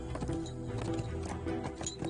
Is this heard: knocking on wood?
no